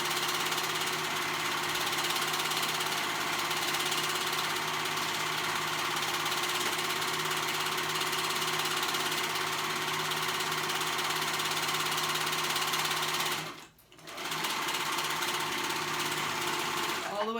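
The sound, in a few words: sewing machine stitching a dress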